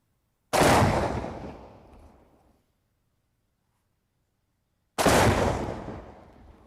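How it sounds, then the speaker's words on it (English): Two loud, close booms from a 12-16 shotgun detonating tannerite targets, each a sharp blast followed by a long rumbling decay, spaced about four seconds apart. "So that was the 12-16 shotgun."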